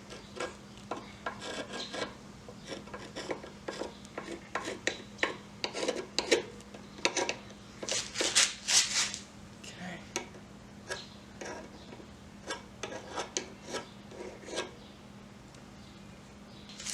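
Old gasket residue scraped off a lawn mower carburetor, a run of close rasping strokes and ticks in uneven rhythm, busiest in the middle, with a faint steady hum beneath.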